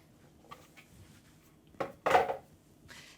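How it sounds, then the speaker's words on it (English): Shredded potato strands for latkes tumble into a cheesecloth-lined strainer in a kitchen, giving a close, soft wet thump followed by a louder rustling slide, with no talking. "So dump the potatoes right in."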